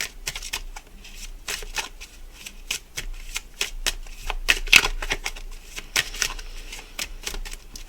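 A deck of Not Tangled oracle cards being shuffled up close, with repeated quick riffling bursts and soft flapping card noise in an uneven rhythm, with no talking over it.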